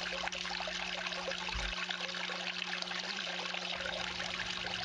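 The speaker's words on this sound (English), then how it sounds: "this is a little higher water flow than I would normally run this at" Water runs steadily through a drop riffle sluice carrying minus 20 material at a higher-than-usual flow, a continuous close rushing and trickling wash with no pauses.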